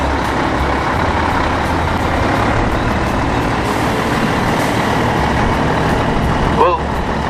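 An American lorry idles at a steam rally, a steady low engine rumble running unbroken and fairly loud, with outdoor crowd murmur and speech faintly mixed in.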